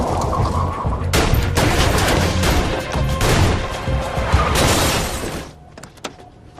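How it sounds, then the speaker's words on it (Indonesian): Rapid gunfire from a film shootout in which two men fire on a group of addicts, with dense overlapping shots, bursts and crashing debris filling the scene loudly, then easing to a few scattered shots near the end. "dan baku tembak pun terjadi"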